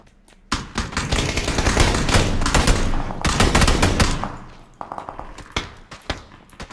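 Dense, loud bursts of rapid gunfire with a few single shots in the shooter game PUBG, sustained for several seconds before thinning into scattered pops.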